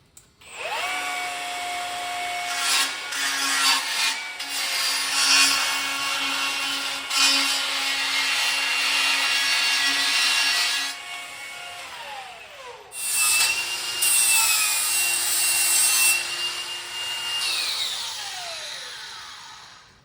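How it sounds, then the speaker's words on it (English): A die grinder rounding off the edges of a metal part on a 1970 GMC truck project, giving a loud, continuous high-pitched whine with shifting pitch, a few brief drops in load and a short pause midway, close up. "I'm gonna round these edges off a little bit with the die grinder"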